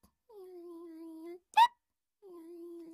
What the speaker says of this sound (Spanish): Tengo que hacer algo para que se le pase el hipo.